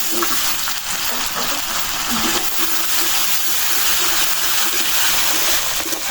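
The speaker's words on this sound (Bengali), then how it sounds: "আদা রসুন জিরা পাতাটা আমি তেলের সাথে ভালো করে ভাজতে নিলাম" Continuous sizzling and crackling of ginger, garlic and cumin paste frying in hot oil for a snakehead fish curry, loud and close, with faint clinks of stirring now and then.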